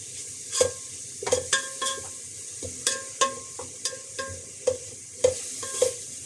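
Crushed spices for biryani being sautéed in a pan, with repeated scraping stirs and clinks over a steady sizzle, close and moderately loud, no talking.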